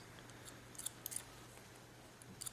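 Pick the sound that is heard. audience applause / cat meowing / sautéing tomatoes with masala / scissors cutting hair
scissors cutting hair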